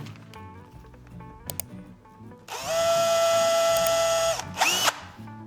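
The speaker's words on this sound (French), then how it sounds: "Maintenant, je vais percer avec un forêt normal." Power drill boring into wood with a standard bit in a woodworking workshop, a loud sustained whine of about two seconds that ends with a short rising burst, preceded by quieter knocks and handling.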